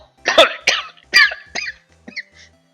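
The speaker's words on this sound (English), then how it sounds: "I actually started coughing." A person coughs several times in quick succession, close and fairly loud, the bursts growing weaker and ending in softer throat sounds.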